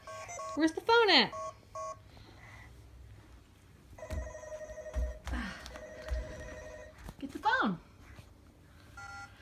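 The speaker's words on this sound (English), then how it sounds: "Phone call for you!" A telephone produces electronic ringing and beeping tones in short patterned bursts, with warbling chirps at the start and end, while people talk nearby and a baby crawls about.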